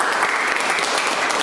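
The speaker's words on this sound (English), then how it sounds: "So give you all a round of applause." Dense audience applause, loud and continuous, many hands clapping at once at the close of a New Year's Eve livestream event, with no clear voices over it.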